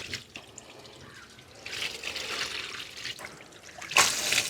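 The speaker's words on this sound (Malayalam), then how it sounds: "നല്ല ചെളിവെള്ളം വരുന്നുണ്ട്" Muddy water gushes out of a water tank through a hose in a steady, close rushing flow that swells slightly partway through, with no voices.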